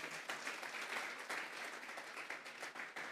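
A church congregation claps and applauds together during a sermon, a dense, steady wash of hand claps at moderate distance, continuing unbroken without speech.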